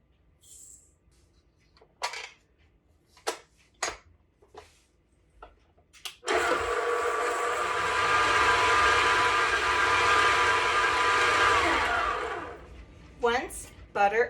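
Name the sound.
electric mixer creaming butter and sugar for pumpkin cookies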